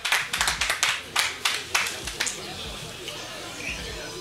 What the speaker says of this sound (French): On peut applaudir le représentant d'Aidons les Talibés.